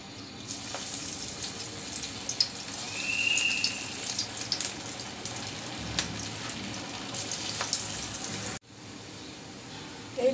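Breaded potato balls fry in hot oil, giving a steady, close bubbling sizzle that lasts for several seconds, with a few light clinks, before a brief dip near the end.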